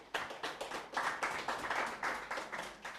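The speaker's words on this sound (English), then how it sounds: "A round of applause for our speaker, Godwin." Audience applause for a guest speaker at the end of a youth engagement leadership talk, a steady round of clapping from many hands that swells and holds for about three seconds, moderately near and unbroken by voices.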